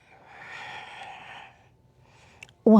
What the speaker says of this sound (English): One more deep inhale.